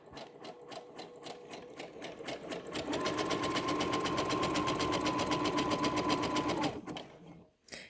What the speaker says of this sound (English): we're just stitching over the edge, our raw edge